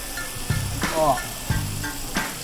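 Crispy lechon frying in boiling oil, a steady loud sizzle and bubbling with a few sharper crackling bursts, heard up close with no one talking.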